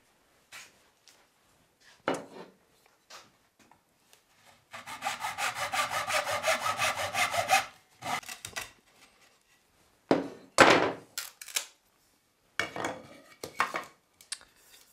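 A saw cuts through dry cane to make tubes for traditional musical instruments. Scattered taps and knocks lead into one sustained burst of rapid, rasping strokes, followed by a few shorter sawing bursts, all close and without talk.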